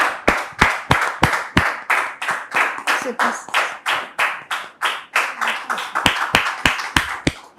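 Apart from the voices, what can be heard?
audience applause welcoming a guest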